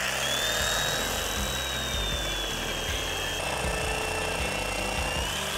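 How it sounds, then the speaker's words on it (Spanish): Jigsaw fitted with a wood-and-metal blade cutting through a wooden outdoor shower structure, a continuous loud buzzing saw drone with a rapid reciprocating rattle, steady throughout with no talk. "Para cortar esta estructura vamos a utilizar la sierra de calar y una hoja para cortar madera y metal"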